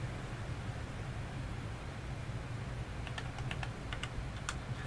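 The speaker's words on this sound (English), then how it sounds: "I'm not typing that much out again." Computer keyboard typing in a sparse run of light clicks over steady background hiss, fairly quiet and close, with no one talking.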